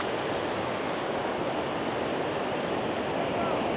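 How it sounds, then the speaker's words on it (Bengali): Steady, broadband roar of ocean surf at Inani Beach in Cox's Bazar, close and continuous with no breaks and no talk. "ঢেউটা এখন বেড়ে গেছে"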